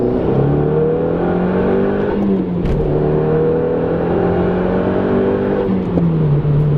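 Volkswagen Jetta 2.0T TSI fitted with a K04 turbo accelerating hard in second gear, a loud, steady engine note climbing in pitch for several seconds, dipping briefly at a shift-like break, then rising again, with no talk over it.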